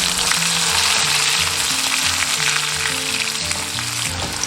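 Ginger slices sizzle and fry in rendered pork fat in a preheated clay pot, a steady loud crackle with background music, no talk.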